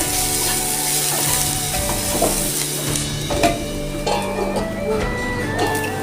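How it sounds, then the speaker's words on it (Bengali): Garlic frying with salt in a covered pan, a dense, even sizzle and hiss running steadily throughout with faint clinks and soft stirring, loud and close with no speech. "আস্তে আস্তে করে আমি ভেজে নেব"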